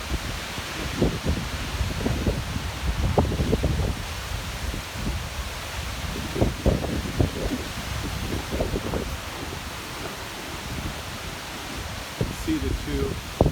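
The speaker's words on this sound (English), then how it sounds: "It's super windy right now," Strong gusts of wind rush through tree leaves in a steady, broad rustling roar, with bursts of wind buffeting the microphone throughout.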